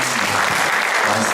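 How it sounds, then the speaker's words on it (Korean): A church congregation claps during a Sunday service to welcome a newcomer, a brief, loud burst of dense applause with a murmur of voices beneath. "네, 박수로 환영하겠습니다."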